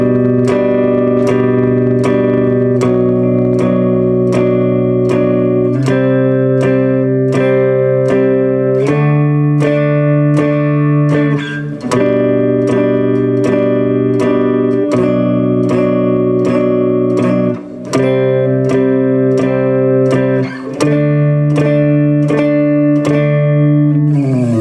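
A cigar box guitar plays four movable barre chords in a steady strummed rhythm, loud and close, with sustained ringing tones and regular chord changes.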